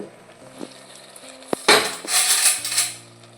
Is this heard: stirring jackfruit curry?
yes